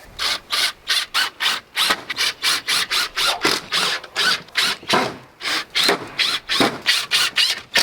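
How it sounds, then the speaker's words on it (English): Wood is worked and fitted inside a goat barn, with loud, close, rhythmic rasping strokes like sawing that repeat quickly and evenly. "put a little extra wood inside this goat barn here for our goats"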